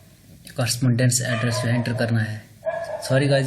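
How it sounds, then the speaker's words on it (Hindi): Stray street dogs bark and yip in the background throughout, partly masked by a person talking steadily over them. "गली के आवारा कुत्ते हैं तो बहुत आवाज़ कर रहे हैं"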